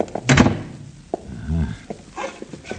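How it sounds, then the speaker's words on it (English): A door is shut with a dull thunk inside a room, a single close impact followed by softer knocks and shuffling movement. "Shut the door, will you?"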